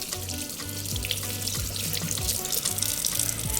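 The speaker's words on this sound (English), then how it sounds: "Just work the oil and then run it under the water." A makeup brush worked with oil is rinsed under a running tap into a sink, a steady close rush of water with a low hum underneath and faint shifting splashes as the bristles move through the stream.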